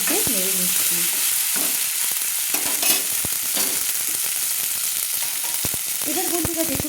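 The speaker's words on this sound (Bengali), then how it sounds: "তেলের মধ্যে নেড়ে নিচ্ছি।" Turmeric and Kashmiri chilli are stirred in hot oil, giving a bright continuous sizzle with scattered spatula clicks and scrapes, close and steady, with a brief tonal squeal at the start and end.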